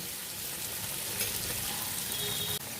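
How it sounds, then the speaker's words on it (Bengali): Pieces of mankochu, giant taro, frying in oil in a pan, a dense steady sizzle with faint crackles throughout, moderately close and uninterrupted by talk. "কচুগুলোকে এরকম একটু ভাজা ভাজা করব"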